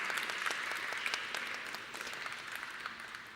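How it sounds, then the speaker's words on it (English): Audience applause at a design awards event, a dense wash of clapping that is strongest at the start and slowly thins and fades, with no voices over it. "A round of applause once again"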